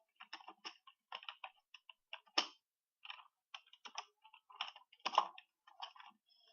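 Keys clacking on a computer keyboard in quick, irregular bursts with short pauses between them, close and fairly quiet, two louder strikes standing out, no voices.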